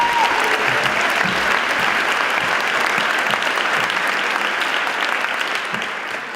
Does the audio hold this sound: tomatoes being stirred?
no